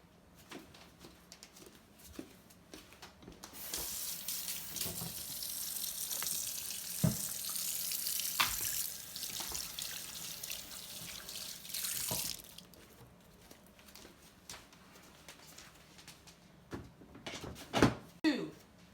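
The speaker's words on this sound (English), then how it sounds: "First step, wash your hands." A kitchen sink tap runs for hand washing, a steady hiss of water rising in the middle and fading, with scattered knocks and clatters around it.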